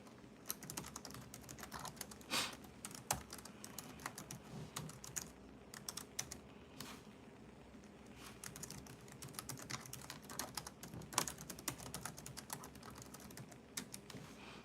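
Someone types on a computer keyboard nearby, a quiet, continuous run of uneven key clicks with brief pauses, steady through the whole stretch with no voices.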